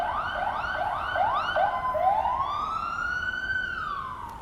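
An ambulance siren wails through a street in Portugal, its rapid yelping sweeps repeating several times before shifting into a long rising and falling wail, loud and steady over traffic rumble with no talk.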